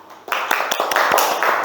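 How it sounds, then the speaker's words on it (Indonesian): A second-grade classroom claps for a pupil, breaking into dense, lively applause from many small hands that carries on steadily nearby. "Beri tepuk tangan dulu buat Beta."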